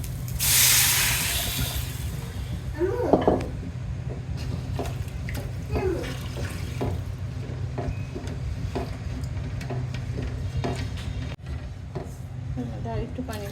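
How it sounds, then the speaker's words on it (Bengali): Water poured into a pot of fried rice sends up a loud steaming hiss at the start, followed by quieter sizzling and bubbling while a person talks intermittently. "এখন এটার মধ্যে আমি দিয়ে দিব পানি"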